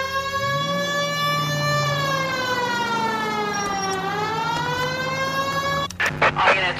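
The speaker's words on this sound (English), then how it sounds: "Hit the siren." Police car siren in the video game L.A. Noire: a loud, close, wailing tone that sweeps up and down for about six seconds, then cuts off into a few short bursts.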